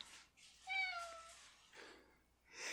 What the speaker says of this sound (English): By the way, that's my cat, Stanislaus.